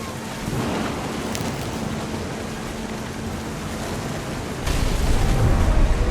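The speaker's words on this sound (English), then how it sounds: "thunder sounded much too close and full of angry power" A deep, rolling storm rumble with thunder in the What Remains of Edith Finch video game, set over steady washing surf and wind. The rumble swells louder and heavier near the end.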